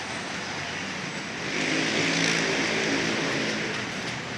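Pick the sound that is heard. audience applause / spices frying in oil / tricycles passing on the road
tricycles passing on the road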